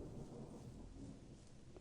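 Steady rain falls in the game The Chronicles of Myrtana: Archolos, a faint continuous hiss with a low rumbling wash underneath and no voices.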